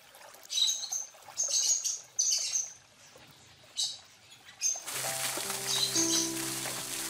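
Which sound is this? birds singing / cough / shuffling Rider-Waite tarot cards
birds singing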